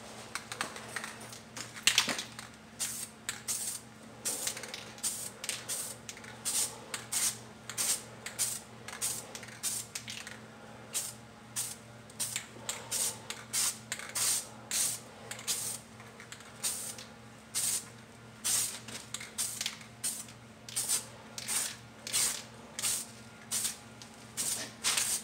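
Sandable primer is sprayed onto car wheel rims in a long run of short, light hissing bursts with brief gaps between them, fairly quiet over a steady low background hum.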